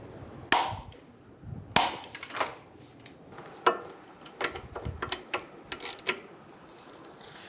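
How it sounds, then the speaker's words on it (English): Sharp metallic clicks and clanks while tightening the axle nut on a 2000-2007 Ford Focus front CV axle, a few isolated loud snaps followed by scattered lighter ratcheting clicks, close by. "Torque the ball joint bolt to 46 foot-pounds."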